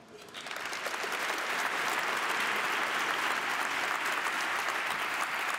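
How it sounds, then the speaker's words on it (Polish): An audience claps continuously at a Polish business awards gala, a dense, even wash of applause that holds steady throughout. "Wielkie brawa dla Bartosza Pilitowskiego"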